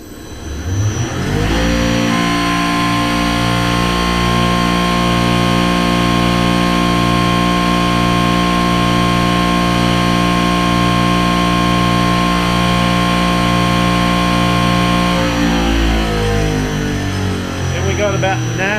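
A modified CP3 diesel fuel pump runs on a test bench at 3500 RPM and 160 MPa, a loud, steady whine with a pulsing drone that ramps up at the start and winds down at the end.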